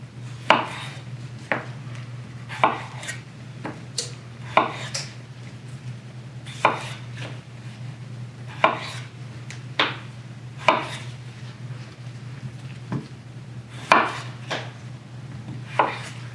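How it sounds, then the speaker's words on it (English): A knife cuts potatoes into wedges on a board, giving sharp separate chops at an uneven steady pace, close and clear over a low steady hum, with no talking. "Next thing we're going to do is to cut the potatoes into wedges."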